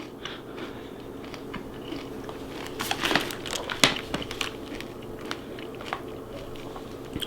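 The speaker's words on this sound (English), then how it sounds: "it's crunchy. So it's definitely a good granola for keto" Close crunching bites and chewing of crisp vanilla keto granola, irregular and fairly loud, with no talking.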